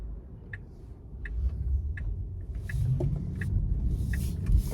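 A Tesla car rolls onto the highway with a steady low road rumble that swells as it speeds up, while a soft regular ticking, like a turn signal, clicks along above it.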